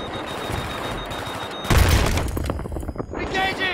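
Tank cannon firing in the Battlefield 3 campaign, a heavy booming blast midway through amid ongoing combat noise and crackling gunfire, with a voice speaking near the end.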